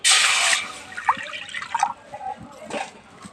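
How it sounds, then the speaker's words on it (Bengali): Water poured into a wok on the stove for boiling fish eggs: a loud, close splashing pour lasting about half a second, followed by faint drips and light clatter. "এখানে দিয়ে দেবো পানি"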